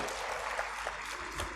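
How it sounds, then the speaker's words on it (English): Steady applause from a conference audience for the chairperson and speakers, a continuous wash of clapping from a crowd in a hall, moderately distant and unbroken throughout. "Please give a huge round of applause to the chairperson and the speakers."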